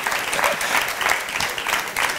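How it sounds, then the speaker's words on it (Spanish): Audience applause at a business gala in Finestrat, dense and sustained clapping from a large crowd with soft pulsing swells, steady and fairly loud throughout. "Un aplauso para ustedes"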